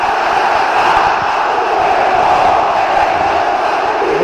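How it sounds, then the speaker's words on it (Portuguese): Sport Recife supporters at Arena Pernambuco roar the traditional 'casaca' chant during a Copa do Nordeste football match, a loud, dense wall of crowd voices that runs without a break. "é um grito tradicional aí, o casaca, casaca, né?"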